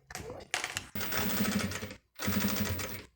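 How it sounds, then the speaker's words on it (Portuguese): A sewing machine stitches a seam joining a zipper panel and fabric for a toiletry bag, running in close, loud bursts of rapid needle rhythm broken by short pauses. "E aí, vou passar uma costura aqui."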